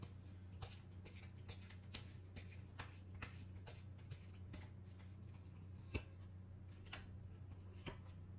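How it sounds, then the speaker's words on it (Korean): Tarot cards are shuffled and drawn by hand, soft steady riffling under a low hum with sharp little flicks and snaps of the cards at irregular moments. "여러분과 그 사람의 관계에서의 조언 카드 한번 뽑아보도록 할게요"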